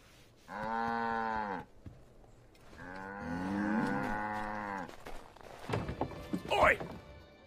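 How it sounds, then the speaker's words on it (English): A cow in a video game gives two long, close moos, followed by a few thuds and a short voiced sound. "Good cow."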